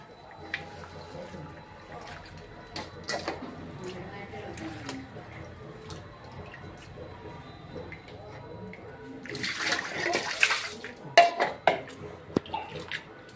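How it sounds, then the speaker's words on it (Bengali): Spinach leaves are rinsed in water before cooking in a home kitchen, with soft splashing and sloshing that builds to a louder gush of running water near the end. A person speaks over the water. "তো শাকগুলি আগে ধুয়ে নিই"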